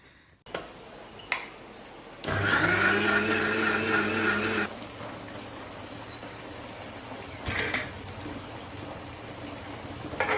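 A mixer grinder runs for a couple of seconds blending red chutney with chili powder, a loud whirring motor burst that cuts off, followed by quieter kitchen noises and a brief high whine, no speech.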